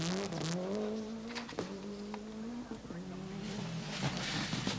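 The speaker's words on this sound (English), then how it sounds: "it was car number two, the distinctive blue Subaru Impreza of Colin McRae, that had got the Midlanders out of their beds early" Blue Subaru Impreza rally car at the 1993 Network Q RAC Rally on a special stage, engine revving and climbing through gears, with a narrator talking over it.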